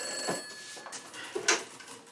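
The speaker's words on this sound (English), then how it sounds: "That darn phone has been ringing nonstop." A telephone bell rings in short bursts, two or three rings spaced apart at moderate distance, fairly quiet with faint room background and no talking.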